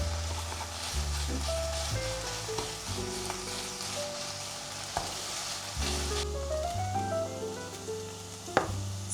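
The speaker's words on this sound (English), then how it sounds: "Smash the minced meat with a spoon." Ground beef fries in a pan while a spoon smashes it, a steady close sizzle with faint tapping, over soft background music.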